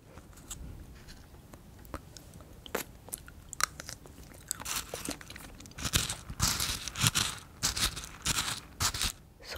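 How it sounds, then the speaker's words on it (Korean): Rainbow bead ice cream crunches between the teeth in steady close-up bites, a crisp crackling and chewing that grows denser and louder toward the end, with no talking. "레인보우 구슬 아이스크림도 먹어볼게요."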